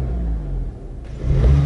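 A 2014 Audi S1 engine revs up from inside the car, a mid-pitched growl that dips briefly and then swells louder toward the end, with no voices over it.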